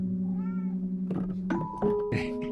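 Cat meowing in a few short tonal calls over a low steady hum, with soft thumps and scraping nearby.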